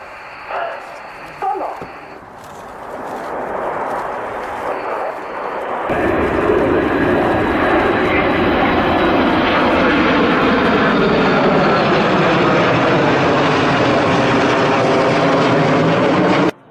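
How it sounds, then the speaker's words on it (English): A formation of aircraft flies over at the RIAT 2024 air show. A heavy engine roar swells and then holds loud and steady, with a rising and falling whine on top as the planes pass close overhead. "RIAT 2024 was an incredible air show with some truly rare and spectacular formation flyovers lighting up the skies"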